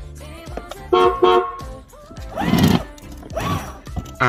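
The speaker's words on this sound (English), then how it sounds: "So we have a working horn." Horn of a TOYMAX BMW 507 children's ride-on car sounding in a few short toots, fairly close and loud, with a longer buzzy blast toward the end.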